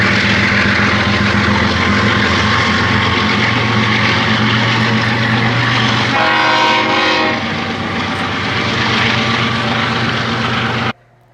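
A smoking locomotive-hauled train rumbles past loudly with a steady low engine drone and clattering, a brief horn-like blare midway, then the sound cuts off abruptly.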